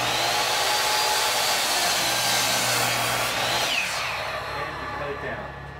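Wooden log being cut through with a saw while making a tea light candle holder, a loud continuous rasping cut that eases and tapers off near the end.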